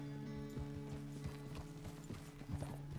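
A horse in Red Dead Redemption 2 clip-clops along at a steady walking rhythm, its hoofbeats crisp and fairly close over a low, constant hum.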